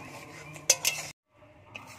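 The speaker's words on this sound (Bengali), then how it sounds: "তরকারিটা ফুটছে, এবার আমি সরষে বাটা দিয়ে দেবো।" A metal spoon clinks a few times against a pot as mustard paste is added to a simmering Bengali sour eggplant curry, followed by a brief quiet and a faint stir.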